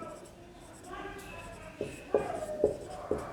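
A pen writing an address on paper, with soft scratchy strokes and a few sharper taps as the tip moves across the page, close and quiet.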